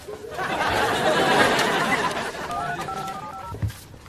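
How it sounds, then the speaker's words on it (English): Telephone keypad tones being dialed on a phone in a sitcom scene, a short series of stepped beeps emerging over a loud crowd of chatter and laughter, followed by a soft thump. "I'm gonna go ahead and make a little phone call right now."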